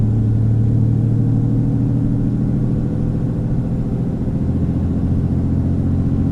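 A RAM 2500 pickup's 68RFE automatic transmission slips while failing to shift into fifth overdrive gear, heard as a steady low engine drone and rumble that holds and wavers without a clean gear change.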